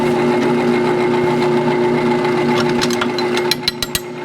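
A 7/16 inch bit drilling holes through a metal bracket during an Accu-Volume kit install, a steady loud motor whine running throughout with a few sharp clicks and knocks near the end.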